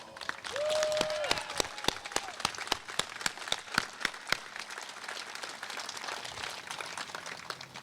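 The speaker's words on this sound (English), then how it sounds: "shouldn't we honor them by giving them a round of applause?" At a 9/11 memorial ceremony in Hayward, an outdoor crowd applauds to honor fallen first responders, an even wash of clapping punctuated by sharp nearby claps, with a brief tonal whistle early on.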